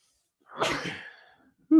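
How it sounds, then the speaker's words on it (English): A single loud sneeze bursts out and trails off, followed a moment later by a short vocal sound. "I feel like I got to sneeze all the time"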